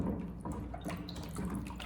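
Apples being rinsed under a running tap, water streaming and splashing steadily into a sink at close range with small irregular drips and spatters, no voices.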